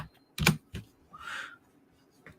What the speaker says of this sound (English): Hope you guys always love the ASMR tapping on my gamer PC keyboard